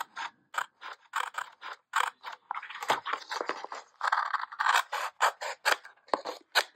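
Scissors snipping through a foil picture, close and crisp: a long run of short, fairly regular cuts with small gaps and a few longer scraping passes.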